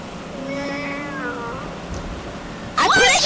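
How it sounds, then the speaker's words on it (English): A cat meows in a video game, one drawn-out tonal meow fairly clear against low background noise, followed by a brief louder burst at the end. "Why is there freaking cat sounds in your speakers?"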